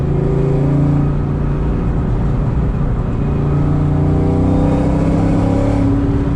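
Ford Coyote V8 car with a full 3-inch exhaust, a loud, steady deep engine drone held throughout with little change in pitch, close and continuous with no talk.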